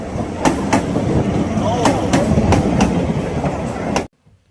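A moving passenger train rumbles steadily with sharp periodic rail clicks and clacks, loud and close throughout, then cuts off abruptly near the end.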